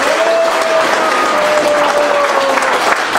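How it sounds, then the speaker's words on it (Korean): Loud, enthusiastic audience applause at a political gathering, dense clapping from a crowd filling the whole moment, with a faint voice briefly heard beneath it. "뜨거운 박수 다시 한번 부탁드리겠습니다."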